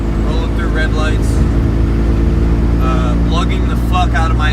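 A 700hp Cummins diesel truck engine lugs at low revs, giving off a deep, steady, loud rumble that fills the cab while someone talks over it.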